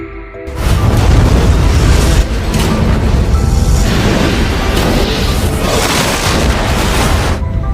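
A big explosion destroys a base in the film Alien vs. Predator (2004), erupting with a deep roaring boom, then rumbling and crackling loudly for several seconds as debris-like bursts keep flaring.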